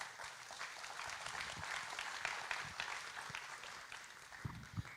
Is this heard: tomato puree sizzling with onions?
no